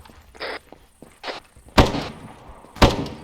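Several muffled, distant-sounding thumps and cracks in a quiet scene, a couple of them sharper and louder, spaced irregularly like far-off video game gunfire.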